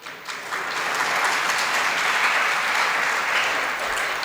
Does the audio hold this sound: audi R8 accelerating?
no